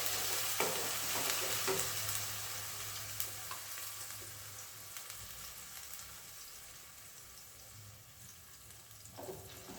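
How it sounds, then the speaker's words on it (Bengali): Onion paste frying in hot oil, a constant fairly quiet sizzle with occasional scrapes and knocks of a spatula stirring the pan, fading slightly toward the end with a last stir. "পেঁয়াজ বাটাটা তেলের মধ্যে দিয়ে ভালো করে এবার কষিয়ে নিতে হবে"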